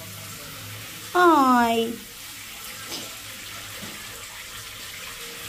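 A shower runs into a bathtub with a steady, close hiss of falling water throughout, briefly covered by a short spoken exclamation.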